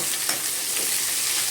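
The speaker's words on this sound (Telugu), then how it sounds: "ఇలా వేగిన తర్వాత మనం కట్ చేసి పెట్టుకున్న ఆనియన్," Onion and green chillies fry in a pan with a loud, close, continuous sizzle, joined by brief scraping from a spoon being stirred through them.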